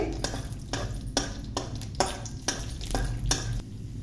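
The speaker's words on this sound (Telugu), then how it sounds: "ఇప్పుడు జీడిపప్పు వేసుకోవాలి. వేసుకొని చక్కగా కలుపుకోవాలి." Cashews fry in hot ghee in a pan, with a soft sizzle under a series of rhythmic scraping strokes as a spoon stirs them, about every half second.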